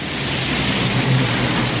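Steady, dense rain pours down during a thunderstorm, heard from beneath a bridge. It forms a constant close hiss with a low rumble underneath, and no distinct thunderclap stands out.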